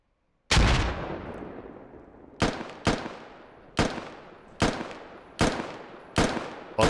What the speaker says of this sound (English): He's trying to throw grenades down the hill.